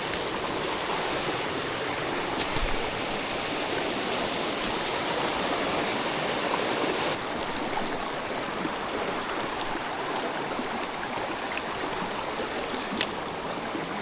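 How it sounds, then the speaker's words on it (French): A swollen mountain river in flood flows in a steady, full rushing roar close by, unbroken for the whole stretch, with a few faint clicks and a slight change in tone partway through; no one speaks. "Je vais me rapprocher de la rivière vers là-bas."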